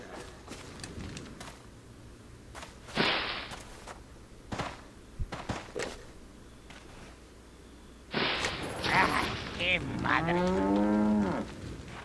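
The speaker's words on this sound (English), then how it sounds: "I hear a cow." A cow moos in the Resident Evil 4 video game, a drawn-out bellowing low near the end that follows scattered thumps and footsteps, fairly loud and with no talking over it.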